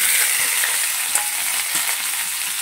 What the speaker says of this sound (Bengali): অল্প করে তেল দিয়ে দিচ্ছি, দিয়ে দেখো পেঁয়াজ আলু আর উচ্ছে আর লঙ্কা আছে একসঙ্গে দিয়ে দিচ্ছি,